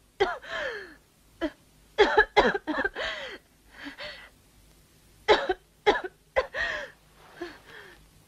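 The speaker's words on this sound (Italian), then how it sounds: "Per l'amor di Dio, smetti di tossire." A girl coughs in a bedroom at night, harsh, wet bursts in clusters separated by gasping breaths and brief pauses, close and loud with no one speaking.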